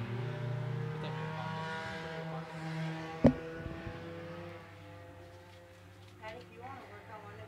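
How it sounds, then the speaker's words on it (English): Sport compact race cars run at a speedway, their engines droning steadily at a distance under a commentator's voice, with one sharp bang in the middle and the engine note fading toward the end. "Top two cars, Purvis and Embry"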